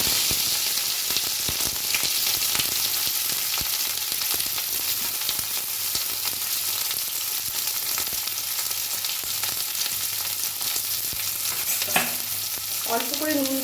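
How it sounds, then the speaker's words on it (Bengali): Capsicum stir-fries lightly in a wok, a loud, close, unbroken sizzle with constant spatula stirring, and a brief voice surfacing near the end. "এবার আমি ক্যাপসিকামটা ভেজে নেবো হালকা করে।"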